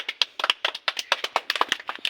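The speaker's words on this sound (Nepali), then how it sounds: "ताली बजाऊ सबैजनाले।" A group of people clap their hands together for the winner of a hit-the-ball game, sharp rapid claps overlapping in a lively, close burst with no talking.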